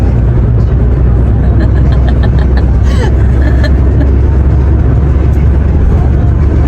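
A car passes close by at a seaside spot, a steady broadband road rumble with engine drone filling the whole stretch, some indistinct voices faintly underneath.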